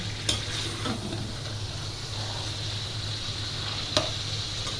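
Tomatoes go into chicken karahi frying in the pan, giving a steady loud sizzle with a couple of sharp clinks or stirring knocks near the start and near the end.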